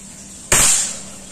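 A single sharp crack from a compact PCP mini bullpup air rifle at 2700 psi, shot at a metal silhouette target, with a brief bright ring that decays quickly against a quiet background.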